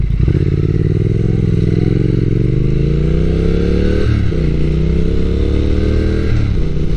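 A motorcycle pulls away and rides on Route 465 in Japan, its engine loud and close with steady revving that rises and falls through gear changes, plus wind and road rumble throughout.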